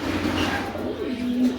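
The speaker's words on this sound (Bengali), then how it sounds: "একদম পুতুলের মতো গোল কবুতর" Pigeons cooing, a brief low throaty coo rising and falling, close by and moderately quiet, with faint background noise.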